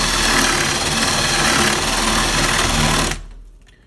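Router bit hogging out pressboard under a Formica countertop layer for a sink, a loud steady high-pitched whine that cuts off abruptly near the end.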